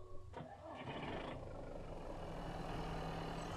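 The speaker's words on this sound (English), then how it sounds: "Alright, engine start." A car engine starts up in the Mist Survival game: a cranking burst near the start settles into a steady, moderately loud idle hum that continues to the end.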